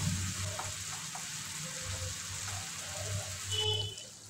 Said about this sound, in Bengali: চিকেনটা কিছুক্ষণ মশলার সঙ্গে মিক্স করে নেব।